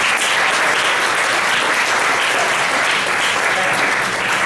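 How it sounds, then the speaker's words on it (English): A presentation audience applauds loudly and steadily, a dense wash of clapping from many hands filling the room throughout. "So if we can give Megan another round of applause."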